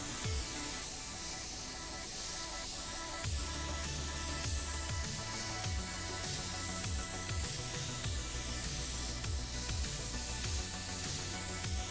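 A DeVilbiss DV1 spray gun with a 1.3 nozzle and C2 air cap sprays paint onto a Chevy truck bed at 18 psi, giving a steady, close airy hiss that runs unbroken for the whole stretch.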